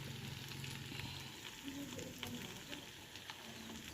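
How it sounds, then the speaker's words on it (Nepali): Buffalo meat sizzles and fries steadily in a pan in a home kitchen, a continuous crackling hiss with faint stirring and some background voices. "अझै यहाँ राँगाको मासु फ्राई गरिरहेको छु मस्तले"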